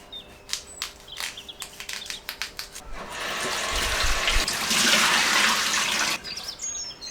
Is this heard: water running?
yes